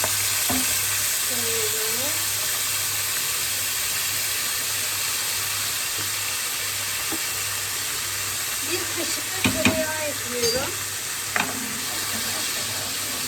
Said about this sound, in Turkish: güzelce pirincimi kızartacağım, kavuracağım.